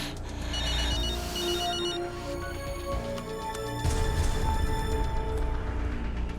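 A telephone rings repeatedly in a steady electronic pattern, fairly loud and close, with a background hum and no talking.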